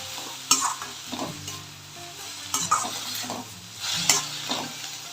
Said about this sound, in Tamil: இஞ்சி பூண்டு தக்காளி எல்லாம் சேர்த்து நல்லா வதக்கிக்கலாம்.